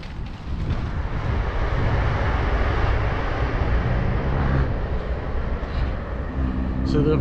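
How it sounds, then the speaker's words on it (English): Steady roar of cars passing on a road near the brick Balcombe Valley Viaduct, a continuous broad rumble that stays loud and close for the whole stretch, with a faint voice near the end. "excuse the noise of the cars"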